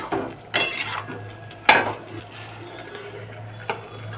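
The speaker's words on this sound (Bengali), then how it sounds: "চিনি দিয়ে একটু ভালোভাবে নেড়ে চাপা দিয়ে দেব" Cooking greens with sugar stirred in a pot, a few sharp metallic clinks and scrapes of a utensil spaced over a few seconds, with a low steady hum underneath, no voices.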